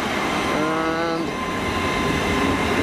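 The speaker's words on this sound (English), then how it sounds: "by here we have the HSTs coming in now on platform 3" An HST high-speed diesel train arriving at a station platform, a steady rumble with a brief rising engine or brake whine in the middle, heard from the platform at moderate distance.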